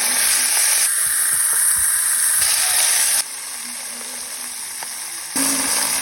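Pork hock frying with shallot in a hot pan, a loud continuous sizzle and hiss close by, dropping briefly in intensity midway before rising again.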